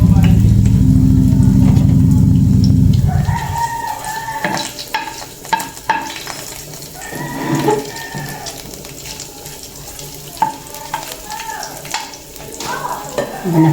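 Meat being sautéed in a pan: a loud low rumble for the first three seconds, then steady sizzling and frying with irregular clatters and scrapes of stirring, close throughout.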